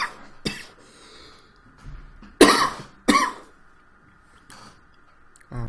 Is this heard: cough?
yes